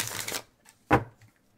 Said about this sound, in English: Gave it a good shuffle.